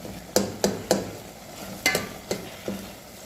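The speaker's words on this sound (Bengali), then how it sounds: "এই যে কষাইতে আছি চিংড়ি মাছ দিয়া" Prawns with turmeric and chili sauté in a pan for a Bengali bottle gourd dish, a low sizzle broken by a series of sharp scraping stirs, three quick strokes, a pause, then three more.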